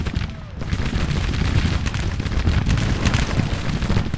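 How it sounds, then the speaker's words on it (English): Massed musket volleys from Civil War infantry lines in Grand Tactician: The Civil War, a dense, continuous crackle of overlapping shots rolling on without pause, loud and close. "Now they're all firing again."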